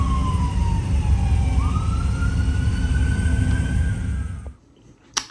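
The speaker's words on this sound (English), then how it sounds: "Here comes another fire truck." A wailing siren sweeps up and down over loud traffic rumble as a fire truck passes close by, then the sound cuts away abruptly near the end.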